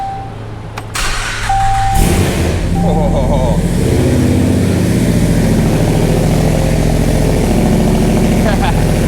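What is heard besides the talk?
Dodge Hellcat swap engine starting and idling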